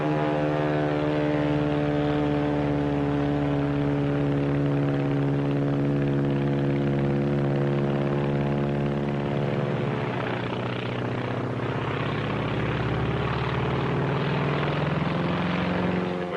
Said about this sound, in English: that plane? Climbing to heaven like a skyrocket? Heaven's the wrong destination for that baby. That's a Zero, the real McCoy.